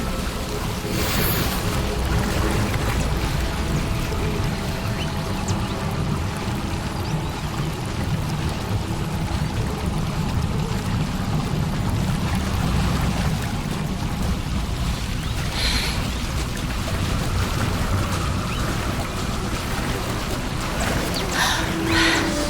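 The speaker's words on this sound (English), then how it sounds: "Look, where the water's bubbling" Bubbling water in the Hogwarts Legacy video game: a steady, dense wash of gurgling and trickling that carries on unbroken, with no talking.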